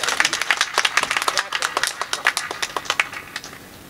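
Live audience at a Hindi poetry recital (kavi sammelan) in Pratapgarh breaking into steady hand clapping, a fairly close, rapid patter of individual claps that swells and then thins out.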